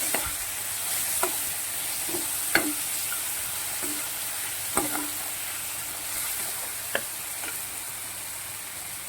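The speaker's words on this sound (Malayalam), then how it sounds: "നമ്മുടെ ടൊമാറ്റോ ഒക്കെ ഒന്ന് വഴന്നു വന്നു." Onion and tomato sauté in a pan with salt and turmeric for a matki and potato masala, a steady close sizzle broken by a few sharp scrapes of a spoon against the pan.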